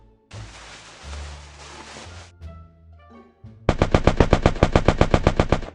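Gunfire in the video game Free Fire: a burst of hissing fire and a few lone shots, then a loud rapid machine-gun burst of evenly spaced shots, close and without talk.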